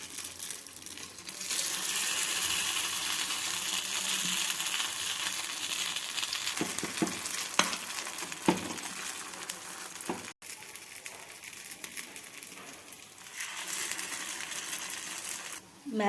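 Dosa batter with a potato filling spooned into a hot paddu pan, giving a steady close sizzle and crackle for most of the stretch, with a few soft clinks and a brief dip partway through; no one talks.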